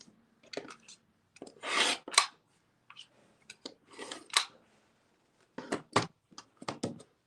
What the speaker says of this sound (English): just trim it away with a 60mm rotary cutter